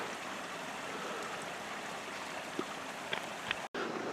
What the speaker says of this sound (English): This dam's actually abandoned, and you can see where the water's flowing through a breach right there.